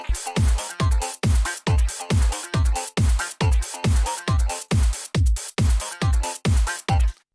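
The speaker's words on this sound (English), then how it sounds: "the great thing about that sound is that it's bandpass signal" A bandpass-filtered synthesizer from Reaktor Blocks pulses in even repeated notes, each with a deep thump, about two per second, loud and up front.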